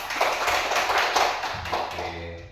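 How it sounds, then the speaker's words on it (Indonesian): A class of students clapping their hands together: a quick burst of bright, overlapping claps for about a second and a half, followed by a voice speaking. "Oke, tepuk tangan dulu."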